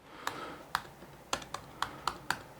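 Seven or eight crisp keystrokes tap on a computer keyboard at an uneven typing pace, quiet and close, with no voices over them.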